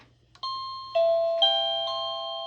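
OhmKat doorbell chime tune number 12, four clear ringing bell notes struck in succession, each sustained and slowly fading under the next, loud and close with no talking.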